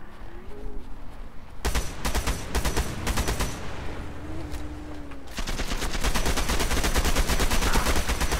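Automatic gunfire rattles in the video game Ravaged, with rapid bursts of shots repeating in loud runs, pausing briefly and then resuming continuously.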